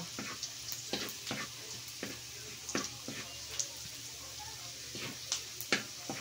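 Pancit bato noodles cooking in a pan, a quiet frying crackle broken by repeated sharp scraping and stirring clicks at an irregular pace.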